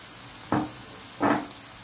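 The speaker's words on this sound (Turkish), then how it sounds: "Hemen domateslerimizi de koyuyorum." Canned tomatoes hit a hot pan in two short bursts of sharp sizzling, each loud hiss fading quickly, with no talking.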